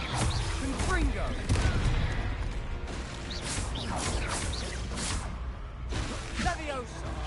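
Rapid blasting spell effects from a Hogwarts Legacy fight, with bursts, crashes and whooshes piling up in a loud, continuous battle din while a voice shouts over it.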